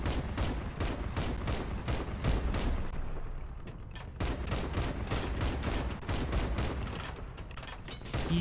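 Machine gun fire rattles on in the vehicle combat video game Crossout, rapid sustained bursts of automatic shots with heavy, constant battle noise beneath them and a brief lull midway.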